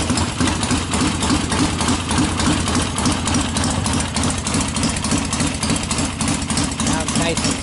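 An engine idling and warming up on a break-in machine, about 80 pounds of oil pressure, a loud, steady rhythmic chug close by that fills the whole clip.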